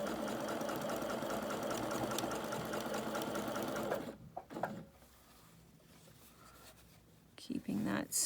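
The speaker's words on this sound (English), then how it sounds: "I'm going to go ahead and sew that down" Sewing machine stitching a quilt row seam, a steady close mechanical whir for about four seconds, then stopping amid quiet handling noises before briefly running again.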